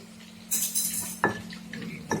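A stone pestle grinds spices coarsely in a stone mortar in short gritty bursts, with a few sharper clinks between the grinding strokes.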